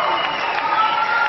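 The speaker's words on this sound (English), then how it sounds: "A very, very big round of applause for Professor Salama" A dense, steady wash of audience applause honours Professor Ahmed Salama from Egypt as he receives a professorship in mathematics and computer science. It sounds like many hands clapping together continuously for a brief moment.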